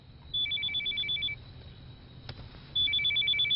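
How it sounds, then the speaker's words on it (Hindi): A telephone rings in two bursts of rapid electronic trills, separated by a pause, fairly quiet and alone in a hushed room. "सारा का फोन है।"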